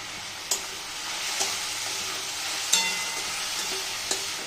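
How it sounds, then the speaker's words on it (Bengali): Onions with salt and turmeric sizzling in oil while being stirred, a continuous close fry broken by a few sharp spoon knocks against the pan, with no talking. "এটাকে একটু ভালো করে নাড়াচাড়া করে নেব।"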